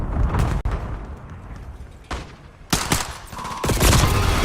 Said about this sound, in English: What are they shooting me with that I'm not shooting them with?